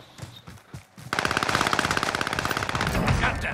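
Assault rifle fire in a video game, a long, loud, rapid automatic burst of close shots after a few scattered softer thumps, continuing steadily to the end.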